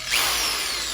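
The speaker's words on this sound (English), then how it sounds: "you can do that with a drill" A power drill fitted with a hex socket runs steadily while backing out hex-headed screws from an electric hand planer, a close, continuous whirring whine that holds for the whole second with no talking.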